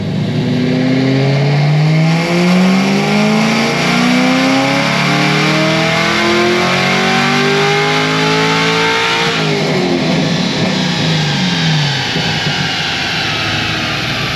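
A tuned car engine on 93 octane, no meth or flex fuel, making about 15 pounds of boost, roars loud and close through a full dyno pull, its pitch climbing steadily for about ten seconds before dropping off.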